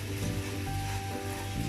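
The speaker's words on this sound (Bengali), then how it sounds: "সনসন আওয়াজ করছে, তার মানে পুরো পোলাওটা ভাজা হয়েছে" Peas pulao rice frying in a pan gives a quiet, steady sizzle with faint scraping of stirring, heard up close with no talk.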